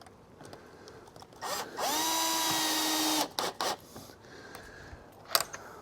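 A power drill drives hex-head roofing screws with sealed gaskets during a front door makeover, giving one sustained whirring run of about a second and a half, then several short bursts as the screw seats, fairly close and without talk.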